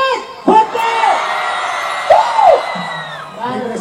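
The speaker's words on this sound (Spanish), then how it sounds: "¡Un grito por Yarita Lisset! ¡Fuerte!" A crowd at a party or celebration shouts and cheers together in a loud, sustained roar with rising whoops, swelling twice over a few seconds.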